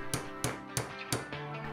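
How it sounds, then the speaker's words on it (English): Hammer seating a threaded rod into a drilled wooden log for a lamp: four sharp, evenly spaced metallic-wooden taps, fairly quiet and close, with no talk. "then I seated it with a hammer."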